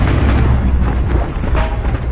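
Gunfire and explosions at night during a hostage rescue raid by SEALs, a dense, loud, continuous rumble of booms and blasts with no pauses.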